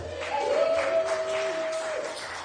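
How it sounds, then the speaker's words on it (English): An audience applauds at a commemoration event for the New Cross Fire, with steady broadband clapping that holds for a couple of seconds alongside a faint sustained tone. "Let's give them a round of applause as we speak on their age."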